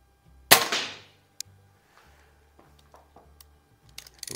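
A 10 meter target air pistol, a Feinwerkbau 65 or Beeman P3, fires one sharp, loud crack on an indoor range of about 22 yards, then a few faint clicks and small knocks follow.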